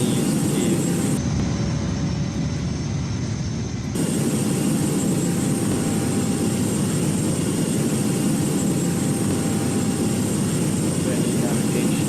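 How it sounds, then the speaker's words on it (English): Cockpit ambience of an Airbus A320neo in a flight simulator as landing gear and flaps are lowered, a steady loud broadband engine and airflow roar with a brief shift in tone early on, no speech. "Gear down, flaps full."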